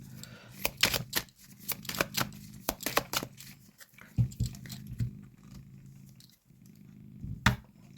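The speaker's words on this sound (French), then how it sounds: "On va refaire une coupe pour finir." A deck of tarot cards is cut and shuffled by hand in a quick, irregular run of close riffling and slapping card noises that comes in bursts with short pauses, set against a low room hum and no speech.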